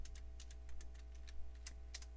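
Computer keyboard typing while installing Windows 3.1 in a virtual machine: quiet, irregular key clicks over a steady low hum, with no talking.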